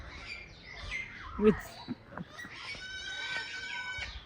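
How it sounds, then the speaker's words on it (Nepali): A faint, high eagle call rings out at a distance over soft ambient noise and low background murmur, at a zoo in Paphos, Cyprus. "इगल रहेछ।"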